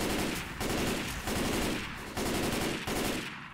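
Sustained automatic gunfire in Left 4 Dead 2, loud rapid bursts separated by brief pauses, close and alone without talk.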